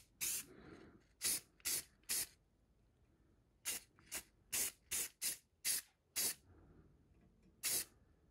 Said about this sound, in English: let that dry, and then I'll hit it with some clear coat